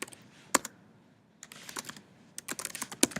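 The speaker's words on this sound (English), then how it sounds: "I'm going to type this on the bottom" Keys clatter on a computer keyboard in close, quiet, irregular bursts of taps with a short pause in the middle, recorded during a classroom lecture.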